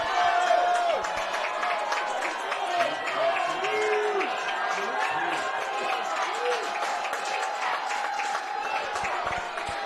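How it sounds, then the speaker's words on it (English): A high school varsity football crowd, the Royals home fans, roars steadily with cheering, clapping and whoops, a dense continuous wash of noise from a packed stand with voices rising throughout. "now the Royals crowd starting to make some noise"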